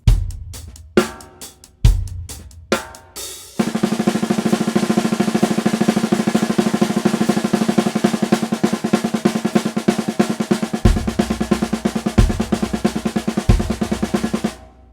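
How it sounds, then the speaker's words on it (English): A few spaced drum hits, then a long, fast, even stream of rapid 32nd-note triplet drum strokes, twelve per quarter note, in tight triplet groupings, ending with a few spaced beats. "if we were to play 32nd note triplets,"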